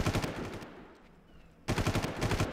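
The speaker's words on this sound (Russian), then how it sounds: "давайте мы, наверное, сразу же сделаем, чтобы очередью стрелять, а не по одной пуле" Automatic gunfire bursts in the shooter game Far Cry Classic on Xbox Series S, two loud rapid bursts separated by a quieter pause, with no talking.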